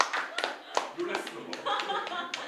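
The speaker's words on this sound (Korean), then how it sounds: "자, 다 같이 축하 박수 할까요?" A small youth church group clapping in congratulation for a birthday, with irregular claps of mixed strength and people talking and chuckling over them.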